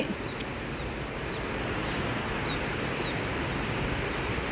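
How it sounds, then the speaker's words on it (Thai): Steady, broadband rushing water roars continuously, like a waterfall heard from nearby, at Cat Cat village near Sapa, with no voices. "เราได้ยินเสียงน้ำตกแล้วนะคะ"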